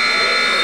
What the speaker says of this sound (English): Luke Davis gets a tipping at the buzzer